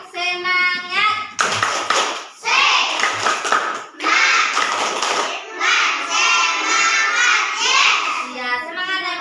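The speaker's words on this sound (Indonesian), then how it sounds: "Tepuk semangat" A class of children does a rhythmic spirit clap, clapping in quick bursts while chanting together in high voices, the claps and calls alternating close and loud.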